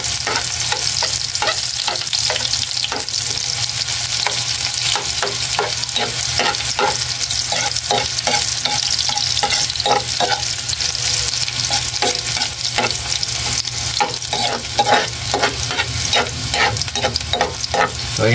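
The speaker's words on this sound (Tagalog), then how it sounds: "isabay na po natin yung sibuyas. Papula-pulahin po natin ng bahagya bago po natin idagdag yung iba pa natin yung ricadong gagamitin." Onions sautéing in a pan for a lomi-style udon noodle dish: a steady, close sizzle and frying hiss with frequent stirring scrapes and clinks throughout, with no talking.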